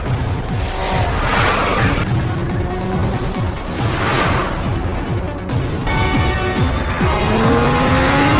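Movie car chase with police and a gangster boss's car ending in a crash: continuous loud engine roar with swelling passes and tire squeals, dense and busy throughout, no talk.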